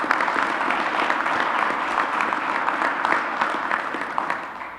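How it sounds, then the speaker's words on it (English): A steady round of clapping from a sizable crowd at a union press conference, dense and sustained for several seconds before easing slightly at the end. "a big round of applause for all the work that they've done"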